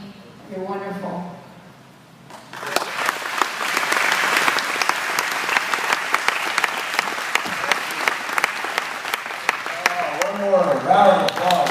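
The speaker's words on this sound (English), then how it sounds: "Round of applause for Kathryn." A Chamber event audience breaks into sustained applause for speaker Kathryn after brief talk, dense clapping for about nine seconds, with voices returning at the end.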